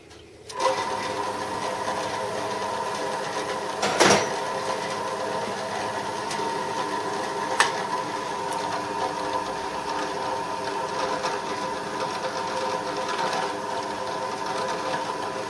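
A machine motor hums steadily at close range, with a few sharp clicks and clunks punctuating the continuous whir.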